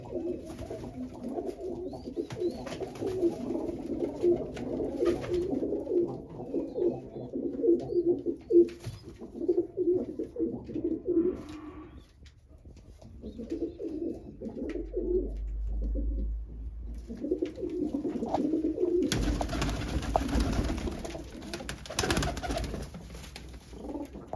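Pigeons kept for sale coo steadily and close by in low, repeated throaty phrases. A brief burst of broadband noise and a low rumble break in near the end.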